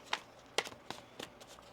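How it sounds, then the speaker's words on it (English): Tarot cards being shuffled during a reading, heard as a few short, crisp riffling bursts spaced apart, quiet and close with no talking. "One more shuffle."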